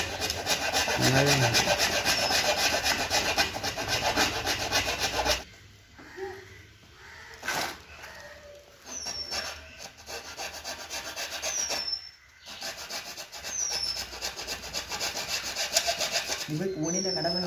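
Rhythmic back-and-forth sawing through a large tree's wood, loud and close at first, then pausing into quieter scraping strokes with occasional bird chirps in the background.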